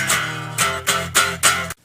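Electric guitar playing the main riff of a song, with four punchy, distorted strummed hits in a quick uneven rhythm, close and clear, stopping abruptly at the end.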